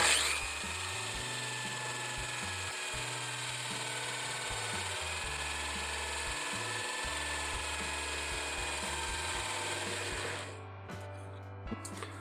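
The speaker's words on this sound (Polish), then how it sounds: "Przykładamy w to miejsce i włączamy wiertarkę." A power drill whines steadily for about ten seconds, boring a 22 mm hole, its motor pitch shifting as it bites into material, then stops, leaving faint clatter.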